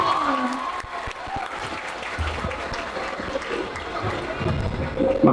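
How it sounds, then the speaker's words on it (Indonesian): An audience at a packed campus event at UNJ applauds Ariel with loud, continuous clapping that carries a crowd murmur and brief voices underneath. "Yuk, kasih tepuk tangan buat Ariel nih."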